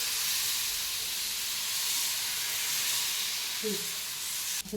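A fasting dosa frying in ghee on a pan, a close, steady hissing sizzle that holds throughout and ends with a brief clatter, with no voices.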